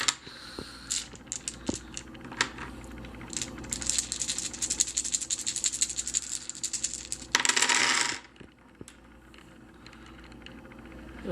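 Ten dice clatter and rattle across a table during a game of ten-dice Yahtzee, a dense run of sharp clicks ending in one louder scattered roll, then a few lone taps, close and with no talk.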